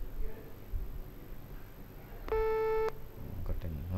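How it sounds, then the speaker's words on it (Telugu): A telephone busy tone sounds after a dropped call: a single steady electronic beep lasting about half a second, heard clearly over low background noise with faint voices around it. "ఫోన్ కట్ అయ్యింది సార్."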